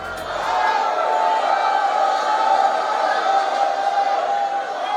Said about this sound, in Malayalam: ആർപ്പുവിളികളും ആരവങ്ങളുമായി തൃശൂർ അങ്ങനെ ഒരു പൂരക്കാലത്തെ കൂടി വരവേറ്റു